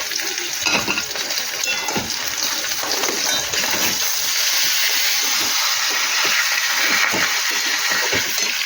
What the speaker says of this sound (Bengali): কচু জল দিতে নেই, তবু আমি একটু চিংড়ি মাছ দেওয়ার জলটা দিয়ে দিলাম